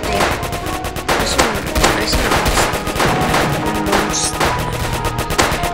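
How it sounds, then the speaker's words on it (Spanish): Rapid gunfire in a zombie video game, dense bursts of automatic shots crackling in quick succession, loud and continuous throughout with no talk. "lo mejor es seguir disparando"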